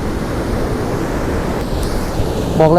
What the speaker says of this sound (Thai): คลื่นค่อนข้างแรงนะครับ